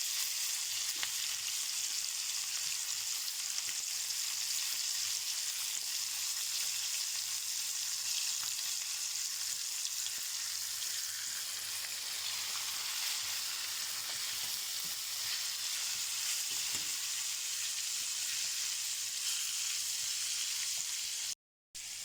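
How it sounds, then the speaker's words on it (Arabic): Small fish fry in hot oil, a dense, even hiss and crackle of sizzling that continues steadily at moderate volume with only faint occasional clicks, ending in a brief cut. "هنا لسه بكمل القليه اهي، قليه السمك لسه ما خلصتش"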